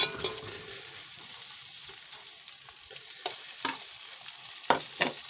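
Chicken liver curry sizzles steadily in a pan while a spoon scrapes and stirs it in a few sharp, close strokes near the start and toward the end; nobody speaks.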